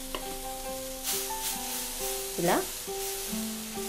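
Moong dal pesarattu batter sizzles and crackles steadily on a hot pan while someone talks over the frying.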